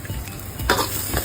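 Onion, chilli and ginger sizzle in a hot pan, a steady hiss punctuated by a couple of stirring scrapes, close and without speech.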